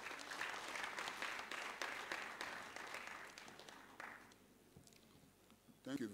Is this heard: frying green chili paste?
no